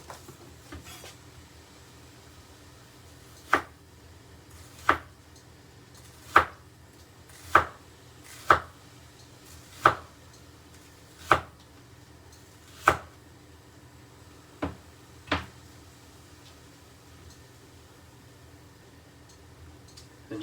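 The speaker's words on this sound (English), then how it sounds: "And you can chop these onions any way you like." A knife chops through red onion on a cutting board in about ten sharp, evenly spaced strokes, close and clear against a quiet background.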